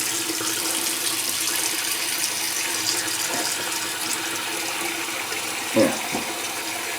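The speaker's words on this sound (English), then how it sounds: "Pull the stopper on the sink." Water drains steadily from a bathroom sink once the stopper is pulled during a wet shave, a continuous close gurgling rush with a faint clunk near the end.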